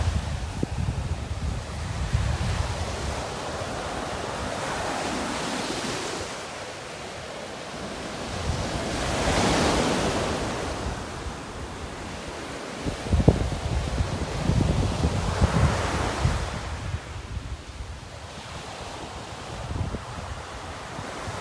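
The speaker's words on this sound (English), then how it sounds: "That wind has really got the water churned up here" Wind-churned Gulf of Mexico surf breaks on a beach in North Naples, Florida, with broad waves rising and washing in every few seconds under steady wind rush and rustle, no voices.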